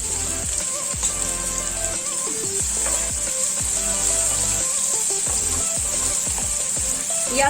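Onion and tomato sauté in hot oil in a pan, giving a steady, close sizzle with a bright hiss throughout and occasional soft stirring clicks and taps.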